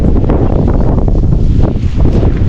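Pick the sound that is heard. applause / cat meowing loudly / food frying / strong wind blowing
strong wind blowing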